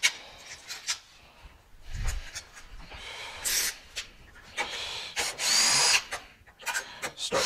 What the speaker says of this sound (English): I'm going to get my drill out because there's going to be a bunch of screws.